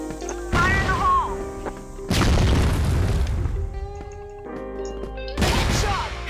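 Grenade blasts in the shooter CrossFire boom three times at steady gaps, each a loud, close burst with a rumbling tail over game music and effects.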